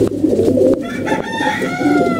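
A flock of healthy pet pigeons coos continuously in loud, overlapping throaty murmurs, close up, with no talking.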